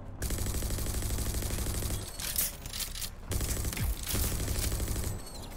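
Rapid automatic gunfire in the video game Rage 2, loud bursts of repeated shots with short gaps between volleys and sharp single cracks, no voices over it.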